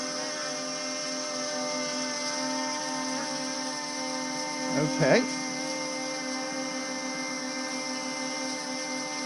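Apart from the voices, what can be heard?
OMPHobby ZMO VTOL RC plane hovering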